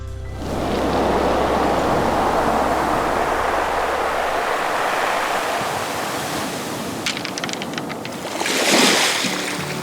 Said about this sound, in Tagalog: The most fascinating though is the powerful waves that hit the shores.